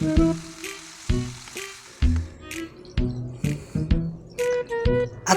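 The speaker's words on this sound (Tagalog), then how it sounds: "At haluan natin ng preska tuna, pampalasa ng ating miswa." Fresh tuna being stirred into miswa sizzling in a hot pan, with a steady frying hiss broken by repeated close scraping and clinking stirs.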